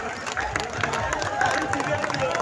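A crowd at a historic jatra gathering in Mandar claps steadily at the prompt of a speaker, dense sustained applause with murmuring voices mixed in.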